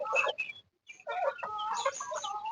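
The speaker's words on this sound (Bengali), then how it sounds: "আমরা এখন আমাদের হাঁস মুরগিগুলোকে খাবার দিচ্ছি।" Hens cluck close by while being fed, in a quick run of short, bright calls with a brief pause in the middle.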